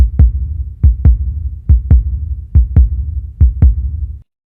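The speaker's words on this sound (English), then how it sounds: "his heart beating fast" A fast heartbeat sound effect thumps in loud, deep paired beats, repeating about four times at an even pace. It is heard alone and stops abruptly.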